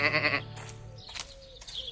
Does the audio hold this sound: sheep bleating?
yes